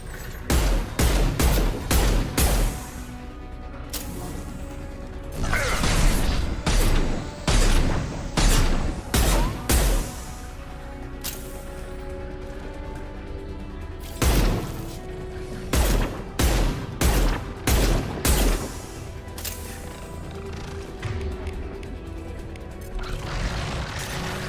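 Rapid bursts of video game gunfire from Mass Effect 2 hammer away in loud clusters, broken by short pauses and followed by more sharp volleys, with mechanical clanks mixed into the dense battle noise.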